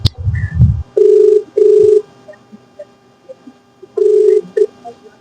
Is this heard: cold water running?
no